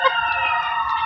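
A fire brigade siren wails steadily, a loud sustained tonal blare holding pitch over a faint low rumble, with no talking over it.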